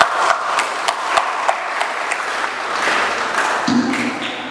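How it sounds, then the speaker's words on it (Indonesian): An audience claps together at a PPDI Purworejo regency gathering, a steady wash of applause with a few sharper individual claps, lasting throughout at moderate loudness, with a brief tonal sound near the end. "kita tepuk tangan dulu banyak ya."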